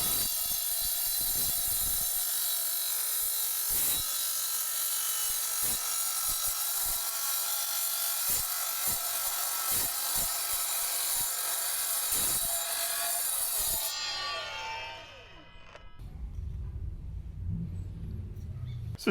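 A cordless 2x20V sliding miter saw bites into 2-inch steel tube about 1/8 inch thick, a loud, steady grinding screech with rhythmic clicks for about fourteen seconds before the blade spins down and stops.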